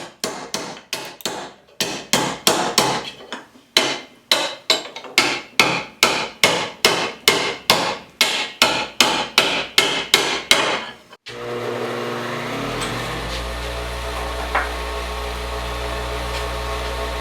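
A hammer taps out a metal cinch gopher trap, striking about twenty loud, close, evenly spaced blows before giving way to a steady hum.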